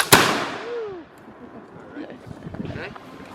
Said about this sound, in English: I'm just going to bring it back full cock and fire